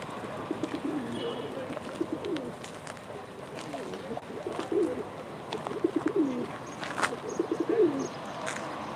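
Pigeons at a live auction in Ankara give repeated low, rolling coos at a steady pace, moderately close, over a faint busy background with occasional sharp clicks and knocks.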